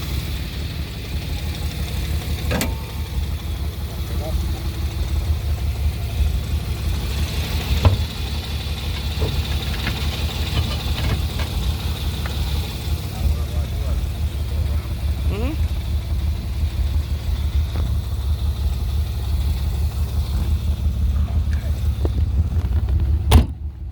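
A 1969 Jaguar E-Type Series II roadster with hardtop driving, its engine a steady mid-pitched drone with occasional knocks and bumps, heard from inside the car at close range.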